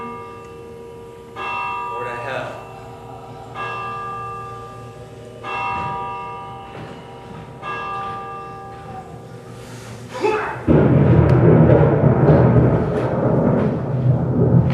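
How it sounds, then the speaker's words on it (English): Bell tolling repeatedly on stage during a performance of Macbeth, several evenly spaced strokes ringing out under a man's lines, followed by a louder burst of stage noise near the end. "The bell invites me."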